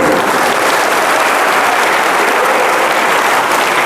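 Loud, dense applause fills a hall at an Islamic boarding school gathering in Bojongnangka, a continuous wash of many hands clapping at once, steady and close with no pauses.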